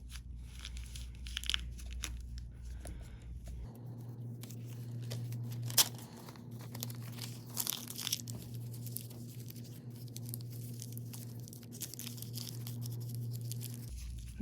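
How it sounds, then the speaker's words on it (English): Aluminum foil is crumpled by hand into a sculpture armature for a figure torso, a soft continuous crinkling and crunching close by, quiet and steady, with a low hum in the background. "I'm going to crumple it up again"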